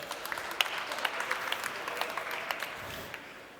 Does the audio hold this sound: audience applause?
yes